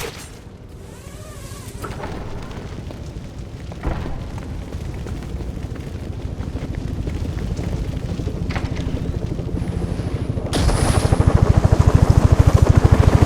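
A helicopter departs in Batman: Arkham Origins, its rhythmic rotor chop building steadily under scattered game effects and rumbles, growing louder and denser toward the end.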